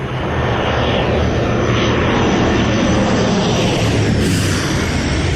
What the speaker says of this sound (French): l'avion qui vient de passer juste au-dessus de ma tête